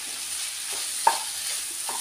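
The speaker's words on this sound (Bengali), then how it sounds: "দিয়ে এবারে ভালো করে নেড়ে ছেড়ে টমেটোটাকে মূলোর সাথে ভালো করে মিশিয়ে দেব।" Radish and tomato curry sizzles gently in a pan while being stirred, a soft continuous fry with a few light scraping knocks of the utensil, close and without voices.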